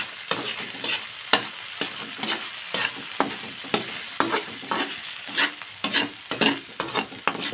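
Corned beef and leafy greens sauté in a hot pan, a constant sizzle punctuated by repeated sharp scrapes and clacks of a utensil stirring in an uneven rhythm, close and with no talking.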